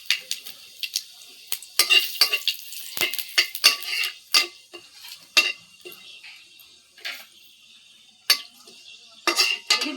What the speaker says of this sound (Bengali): এই যে কড়াইটাতে এখন সম্বাদ দিব, দেখবেন।